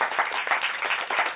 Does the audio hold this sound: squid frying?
no